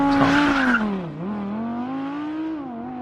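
Audi engine revving high under launch control with the brake held, a steady sustained drone that dips briefly and then climbs and holds, loud and close with no talk.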